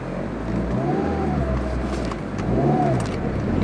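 A 2008 Mini Cooper S with a manual gearbox and a fault leaving it without turbo boost accelerates on the road, its engine note rising in two steady pulls over constant road and engine rumble, heard from inside the car with no talk.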